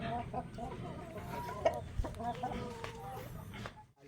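Chickens, Dekalb Brown and Rhode Island Red hens and a rooster, cluck in short, repeated bursts over a busy farmyard background, fairly close and moderately loud.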